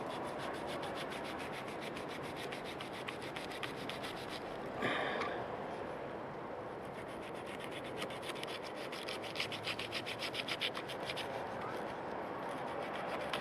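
A Ganzo G7411CF carbon fiber folding knife saws through abrasive Manila rope, giving a steady close rasping rub with a brief sharper scrape midway and faint fibrous crackles near the end.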